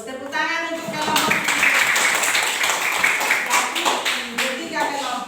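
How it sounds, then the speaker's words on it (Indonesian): A classroom of children claps for a presenting group, a loud close burst of many small hands with a few voices calling out over it. "Tepuk tangan untuk kelompok."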